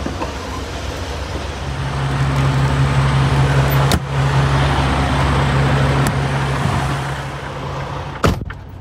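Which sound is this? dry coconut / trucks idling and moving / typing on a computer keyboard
trucks idling and moving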